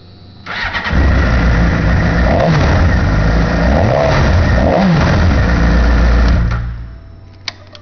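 A 2006 Suzuki GSXR600 motorcycle cranks and fires up, then idles loudly and steadily with a few small blips of throttle for several seconds before shutting off.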